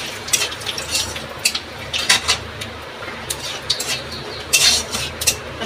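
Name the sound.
nigella seeds, bay leaf and dried chilli frying in oil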